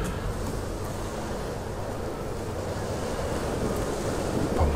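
Strong wind roars over a wild coastal cliffside in the Tomb Raider video game, a steady, loud broadband rush with a surf-like wash that holds level throughout and swells slightly at the end, with no voices.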